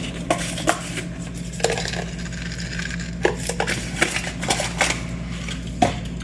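Homemade country gravy being stirred in a pot, with irregular knocks and scrapes of a utensil against the pot over a low steady hum, close and fairly quiet, with no talking.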